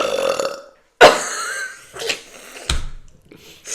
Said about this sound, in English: Burp. Just get it under control.